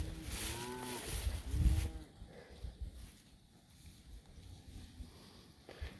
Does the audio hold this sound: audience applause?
no